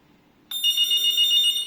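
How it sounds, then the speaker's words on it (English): A wired ECG-702 hotel guest-room telephone rings, its bright electronic ringer starting suddenly after a quiet moment and sustaining as a clear, close, steady tone. "It's the ringer. Ringer sound is very nice and comfortable."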